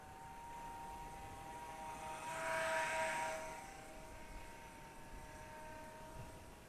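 Eachine Mini P47 Razorback micro RC plane, a 500mm-wingspan gyro-stabilised model, flying past with a steady high motor whine and tonal buzz that swells as it comes nearest mid-clip, then fades slightly, over outdoor background noise.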